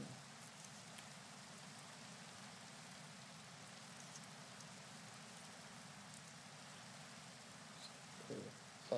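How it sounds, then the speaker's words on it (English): Steady rain from the Minecraft video game, a soft continuous hiss of falling drops that stays even throughout, faint and without talk. "it's a bit dark and rainy."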